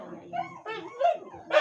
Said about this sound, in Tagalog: Yung aso nila na doon tumatahol po.